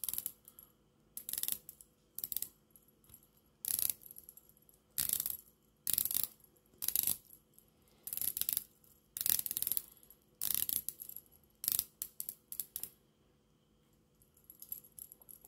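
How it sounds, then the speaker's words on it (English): Tissot SeaStar 1000 dive watch bezel being turned, giving a run of close, crisp metallic clicks in short bursts separated by brief pauses, with no talking. "It's a nice bezel, a nice click on there"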